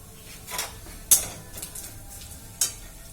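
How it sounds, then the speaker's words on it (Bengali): Onion frying in a little oil in a pan gives a soft sizzle, broken by a few sharp metallic clinks and scrapes of a spoon against the pan. "তেলটা দিয়ে পেঁয়াজটা জাস্ট এইভাবে ভেজে নিয়েছি"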